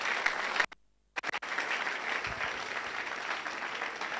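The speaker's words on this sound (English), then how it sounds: "much more bigger and louder round of applause for yourselves" An audience at a youth entrepreneurship and leadership event in Ghana applauds steadily; the clapping cuts out for a moment of near silence, then resumes as a full, even round.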